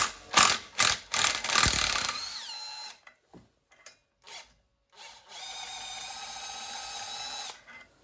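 A ratchet with a 36 mm socket loosens a variator nut on a CF Moto 850 ATV: several loud bursts of rapid clicking up front, then short isolated clicks and a steadier ratcheting run near the end.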